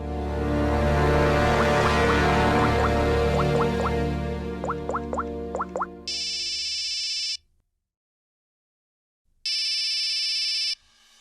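An electronic phone ringtone chirps in two bursts separated by a pause, loud and close, following a stretch of louder background sound.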